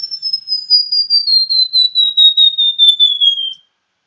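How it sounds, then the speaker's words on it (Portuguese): A White-browed Warbler (Basileuterus leucoblepharus) sings a clear, loud whistled song of short rapid notes that slide steadily lower in pitch over about three and a half seconds, then stops, alone with no background. "Então é um canto com notas curtas que vão então ficando cada vez mais graves"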